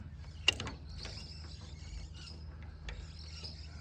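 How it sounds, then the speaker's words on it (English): Fiat 600 tractor engine flywheel turned slowly by hand, giving faint mechanical creaks and clicks with one sharp metallic clack near the start, over a quiet low hum. "So I can move the flywheel a little bit."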